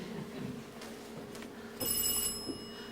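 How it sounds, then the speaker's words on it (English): An office telephone at a school reception desk rings insistently, its bright electronic trill starting partway through over low room hum. "There isn't a 10-minute break in the whole day when the phone isn't ringing."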